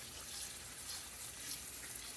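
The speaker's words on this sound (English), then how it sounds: "I usually take cold water and I run on them some so that they stop cooking." Cold tap water runs in a steady, soft hiss, splashing over cooked potatoes in a sink, with no talking.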